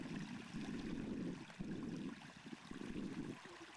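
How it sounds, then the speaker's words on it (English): A river running down toward the ocean in Ireland, heard as a steady close watery rush with gurgling pulses throughout, no voices. "Right here, this is a river"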